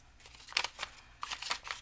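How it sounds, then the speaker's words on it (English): Scissors snip the sides off a paper card, giving a few faint, close, crisp cuts in two short bursts. "So I'm just cutting the sides off"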